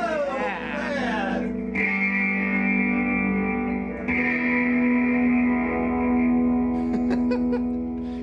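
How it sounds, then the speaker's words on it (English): A vintage Sears Silvertone twin 12 tube amp head sounds with its built-in reverb switched on, sustained electric tones smearing into a wet, echoing, slightly distorted wash that swells and shifts in bursts, with voices mixed underneath. "now I'm going to show you the crappy reverb on this amp."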